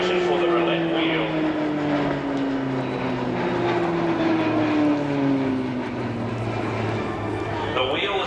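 RAAF Roulettes aircraft flying an air show display, a steady propeller-engine drone with a slowly falling tone as the planes pass, loud and continuous throughout with a voice talking over it.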